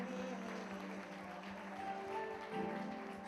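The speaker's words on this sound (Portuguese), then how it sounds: "aplauda mais forte ao Senhor nessa noite" A church congregation applauds during a Portuguese-language evening celebration service, a steady, dense wash of clapping that fills the whole stretch, with a faint voice or music running beneath it.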